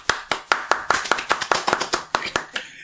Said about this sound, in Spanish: Estoy aplaudiendo